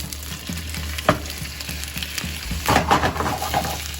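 Shrimp sizzle in a ripping hot pan with a little shimmering oil, a steady crackling hiss broken by sharper pops and spatters.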